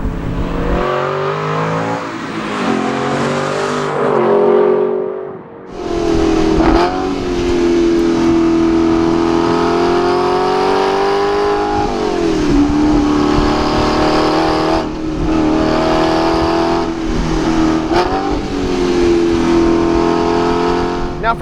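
Aston Martin V8 Vantage S Roadster, a 2012 model, driving on the road, its V8 engine loud and close throughout, rising and falling through revs with a brief lift around a gear change.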